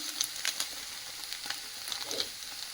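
Potatoes frying in a pan with poppy seeds produce a faint, intermittent crackle of small spits and pops against a soft steady hiss.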